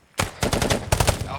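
Rapid gunfire from a military training drill, a close, loud burst of shots fired in quick succession over about a second.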